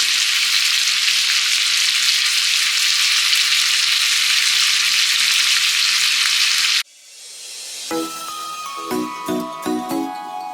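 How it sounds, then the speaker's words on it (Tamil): Food frying in a kadai while cooking prawn fry and lollipop biryani, a loud continuous hiss and sizzle that cuts off abruptly, followed by a few bright metallic clinks of utensils against the pan. "நல்லா ஃப்ரை ஆகட்டும்."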